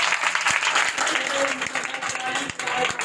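A church congregation claps together in praise of Jesus, a dense, steady wash of hands close by with a few sharper individual claps, and voices mixed faintly into it.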